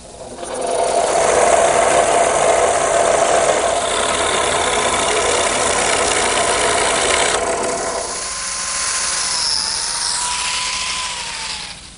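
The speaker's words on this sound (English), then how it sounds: "I'm going to go to my scroll saw, which is really the perfect tool for cutting something like this" A scroll saw cuts a wooden clock pattern with a fast, continuous rasping buzz. The whine shifts as the blade follows curves, then eases into a lighter tone near the end.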